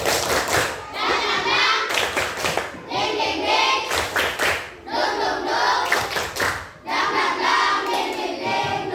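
Schoolchildren in an Indonesian classroom perform the tepuk semangat spirit clap, loud rhythmic bursts of unison clapping in repeated patterned phrases, separated by short pauses, with young voices chanting along.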